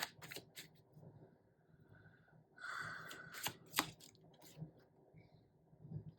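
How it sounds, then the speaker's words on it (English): Tarot cards are shuffled in soft, quiet riffling bursts with light clicks and slaps, close and faint, with no talking. "We are going to shuffle one more time."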